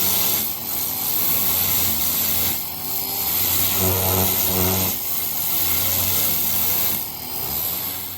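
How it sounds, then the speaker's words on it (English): A pressure washer sprays freshly dug rock pieces caked in clay, a steady loud hiss of water jetting across stone with a continuous engine drone underneath, the spray shifting slightly as it moves over the pieces. "I just sprayed off the top side of all the pieces. I'm gonna flip all these over, pressure wash them again"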